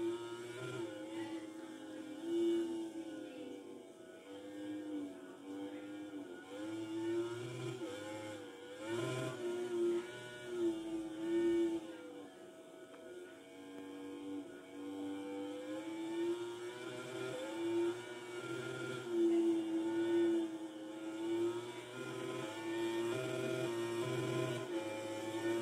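Glitched motorbike engine from a MotoGP video game replay: a steady, buzzing mechanical whine that rises and falls continuously throughout, with a rough, stuttering quality and no talking.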